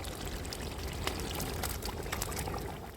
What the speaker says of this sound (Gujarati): તો હવે આપણે છીણેલા ટમેટાં નાખી દેવું